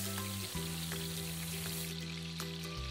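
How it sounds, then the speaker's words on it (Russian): Bulgur frying in butter in a pan gives a steady sizzle and crackle close up, with a few sharp clicks of stirring and a low background hum. "В этой же сковороде на сливочном масле обжариваю булгур 3 минуты."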